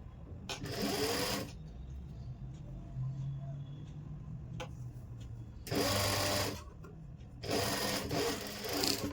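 A sewing machine stitching a straight seam along a suit collar strip, three short bursts of fast whirring stitches, close and fairly loud, with low room hum in the gaps.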